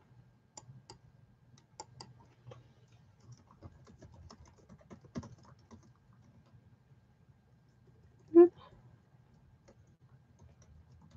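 Soft, scattered keystrokes on a computer keyboard in a quiet room during a card-making session, irregular and faint, with one slightly louder click toward the end and no talk.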